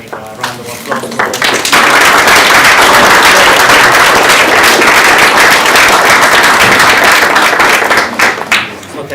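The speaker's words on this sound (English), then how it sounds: "so we want to make a round of applause for" Loud round of applause at a university luncheon, thanking the event's organizers and funder; scattered claps quickly swell into dense, sustained clapping from a large audience, then taper off near the end.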